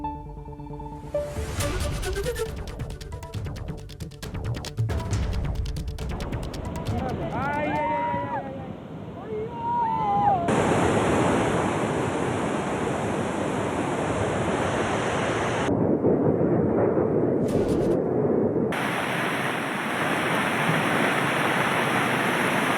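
Floodwater rushes through rivers and streams after a cloudburst in Arunachal Pradesh. A voice talks over the first half, then a loud, steady broadband roar of churning water dominates, with a few abrupt shifts in level.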